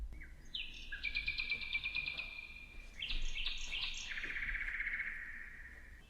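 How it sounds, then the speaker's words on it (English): A real nightingale sings a series of clear, high warbled phrases with rising and falling trills. The song is fairly faint and stands alone over a quiet background. "the song of a real nightingale"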